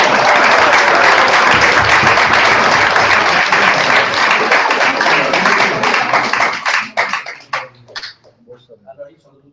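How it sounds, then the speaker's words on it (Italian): Full-room applause from an audience at an Italian round-table event for an award ceremony, dense steady clapping that holds strongly for several seconds, then thins into scattered individual claps before fading out. "Un applauso!"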